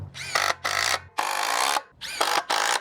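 A power drill drives screws into a wooden 2x2 fence panel in four short bursts, each a loud whirring spin separated by brief pauses, heard close and without talk.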